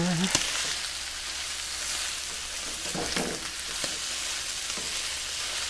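Chicken nuggets frying in a pan with sauce, a dense continuous sizzle close by, with a few soft scraping stirs and clinks as the pan is stirred, and no talking.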